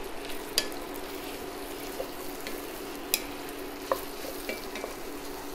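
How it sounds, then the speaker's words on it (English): Onions frying in oil with whole spices for chicken biryani, a soft continuous sizzle broken by a few sharp taps of the stirring spoon against the pan. "So I'll keep frying the onions in the oil and the whole spice mixture."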